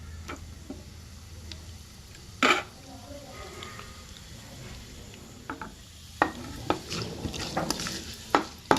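Tempering seeds crackle in hot oil, small sharp pops and ticks scattered over a low frying hiss, growing denser toward the end, with faint talk in the background.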